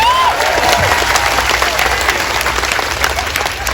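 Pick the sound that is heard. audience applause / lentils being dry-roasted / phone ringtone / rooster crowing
audience applause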